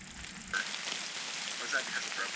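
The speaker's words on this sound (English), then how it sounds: "So it is definitely raining outside" Rain pattering on a surface outside during an ice fishing outing, a faint steady patter that starts abruptly and continues with occasional small tones.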